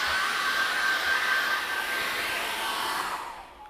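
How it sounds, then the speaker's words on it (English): Hair dryer blowing over wet acrylic paint on a canvas, a steady, fairly quiet airy whoosh held for several seconds before switching off. "I'm just going to give it a quick zip over with hairdryer."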